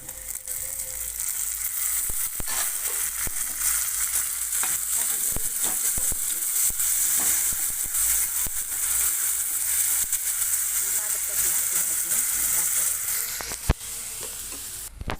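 Onion and tomato frying in a pan for a chicken curry, a steady loud sizzle throughout with occasional scraping stirs, close up and without talk.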